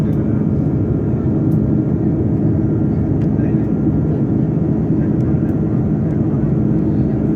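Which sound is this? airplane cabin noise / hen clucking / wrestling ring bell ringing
airplane cabin noise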